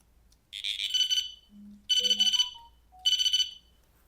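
A BITEKEEPER Pro electronic fishing bite alarm signals a bite with three bursts of shrill, warbling electronic beeping, separated by softer low and mid tones in between, loud and close.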